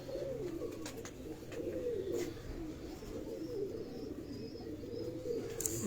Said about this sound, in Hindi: ये चीने कबूतर है जी